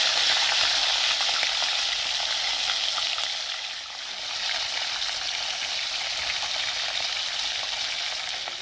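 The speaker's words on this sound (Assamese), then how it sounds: "মই আটাইখিনি মাছ ফ্ৰাই কৰি ল'ম।" Fish frying in hot oil in a clay pan, a steady, loud, broadband sizzle that holds for the whole stretch, dipping briefly midway, with no voices.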